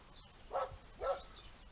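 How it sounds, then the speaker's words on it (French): Falco, a dog, barks twice somewhere off at a distance, two short, faint yelps about half a second apart over quiet outdoor background. "Et là-bas, qui aboie, on a Falco."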